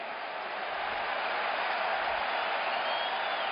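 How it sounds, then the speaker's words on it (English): A stadium crowd at a 2005 Michigan versus Northern Illinois college football game roars in a steady, broad ovation, heard from a distance and holding evenly throughout without any talk. "Hear the ovation from the crowd."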